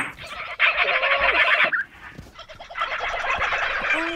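Caged birds in a zoo within a video game let out loud gobbling, turkey-like fowl calls in two close bursts separated by a brief lull, with no talking.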